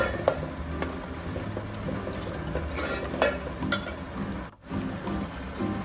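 Masala frying in oil in a pan for a jackfruit subzi, with steady sizzling, scraping and stirring clatter, plus a few metal clinks against the pot throughout.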